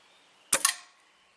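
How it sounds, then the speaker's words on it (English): A single sharp crack from a Crosman Phoenix .177 nitro-piston air rifle, close and loud, with a quick second snap and a short decay in otherwise quiet surroundings. "So we're going to take our first shot here and see what happens."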